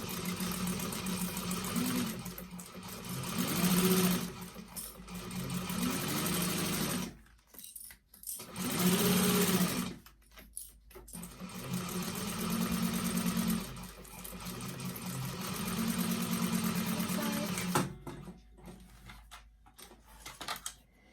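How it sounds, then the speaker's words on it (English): A sewing machine topstitches a tote bag seam with an eighth-inch allowance, humming in long steady runs broken by brief stops and a near-silent gap midway. "And then I sew down the clip side with an 1/8 of an inch seam allowance at my top stitching stitch length."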